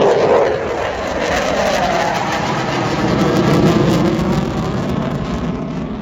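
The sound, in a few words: Eurofighter Typhoon jet arriving at airshow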